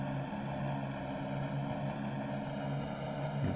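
Steady propeller drone of a P-38J Lightning in the IL-2 1946 flight game, its engine held at a constant throttle-back hum, loud and close, alone without talk.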